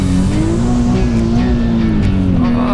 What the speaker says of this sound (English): I'm like almost redlining it and the car is barely getting sideways